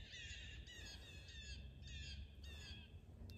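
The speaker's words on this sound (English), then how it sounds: "Something's bothered the crows" Crows caw in repeated harsh squawks, four or five bursts in quick succession, fairly faint and distant over a steady outdoor background at a quiet woodland sit spot.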